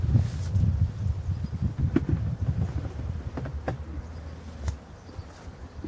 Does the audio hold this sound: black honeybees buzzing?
yes